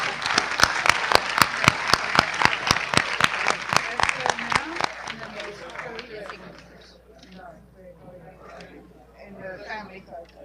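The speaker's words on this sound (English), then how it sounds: "giving them a round of applause for this very momentous" At a Global Biodiversity Alliance Summit signing ceremony, an audience claps in a near, rhythmic, unified beat for about five seconds, then fades into scattered clapping and murmuring voices.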